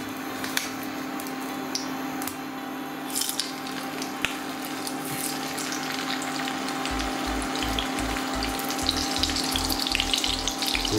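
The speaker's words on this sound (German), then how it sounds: "das Leberkäse reingemacht und brate es an" Leberkäse frying in a hot oiled pan, a steady crackling sizzle with spattering throughout and a rhythmic low thumping joining in the last few seconds.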